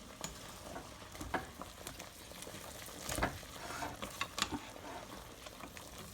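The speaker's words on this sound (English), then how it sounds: "I'm actually gonna mix it up just a little bit." Beef stew in a hot pressure cooker is stirred, giving soft bubbling and a faint simmering hiss with irregular scrapes and knocks of a spoon against the pot, fairly quiet and close.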